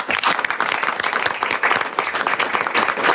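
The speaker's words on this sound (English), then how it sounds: "Another round of applause." At a school board meeting, the audience gives student string players a round of applause, dense, loud clapping from a room full of people that continues without a break.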